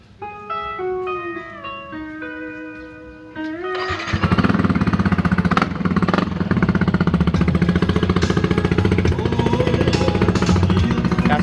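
A Yamaha NMAX scooter engine runs steadily and loud at close range after a few seconds of melodic electronic tones, a rapid, buzzy idle chatter continuing to the end.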